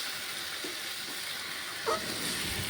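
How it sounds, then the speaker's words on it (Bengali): Jackfruit and prawn curry cooking down in a pan with a pinch of sugar, giving a steady low sizzle throughout and one short scrape of a spatula near the end. "এর মধ্যে একটু চিনি দিয়ে আবার কষানো স্টার্ট হলো"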